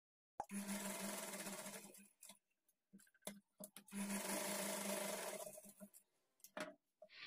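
A sewing machine stitches around a blouse armhole in two sustained runs, each a couple of seconds long, broken by short pauses and small handling clicks. The machine is close and moderately loud.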